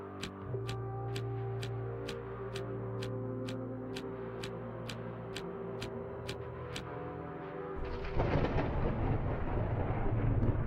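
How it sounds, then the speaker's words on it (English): Thunder in a video game murder-mystery scene: a steady clock-like tick runs over a low ambient hum, then a loud, rolling thunder rumble breaks in near the end and keeps swelling until the clip finishes. "There's the obligatory thunder before the scene resets."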